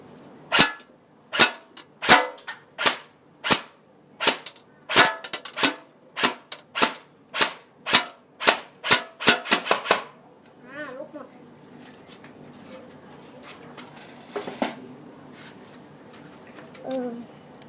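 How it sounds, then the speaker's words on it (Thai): A BB gun fires at a target at short range, about fifteen sharp, close cracks in a quick uneven run, then quieter handling sounds and a few faint knocks. "เดี๋ยวมายิงกันเลย ในระยะ แค่นี้"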